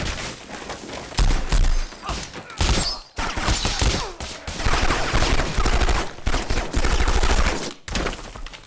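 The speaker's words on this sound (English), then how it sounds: "Hollywood makes heavy use of the micro Uzi in particular in the 2000s" Bursts of micro Uzi submachine gun fire from Hollywood action movie scenes, loud rapid automatic volleys with brief gaps between strings of shots, mixed with cinematic effects and no talking.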